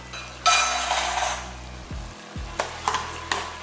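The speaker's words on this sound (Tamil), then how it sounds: "இந்த அளவுக்கு சிக்கன் நல்லா உருண்டு வர அளவுக்கு நல்லா வதக்கிடலாம்" Chicken pieces sauté in a pan, with a loud burst of sizzling followed by softer frying and a few sharp scrapes and clinks of a stirring utensil against the pan, no talking.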